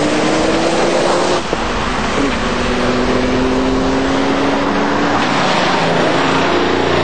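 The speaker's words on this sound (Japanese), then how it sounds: "GT O は再びピットへと向かう。" An original Puma GTO race car in a Super Taikyu endurance race, running with a dead cylinder as it heads to the pit, gives a loud, continuous engine drone with shifting pitch and a brief blip partway through, with no talking.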